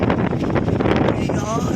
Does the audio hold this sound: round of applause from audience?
no